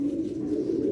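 Pigeons kept for sale coo in a low, continuous warbling murmur, close and moderately loud, with no talk over it.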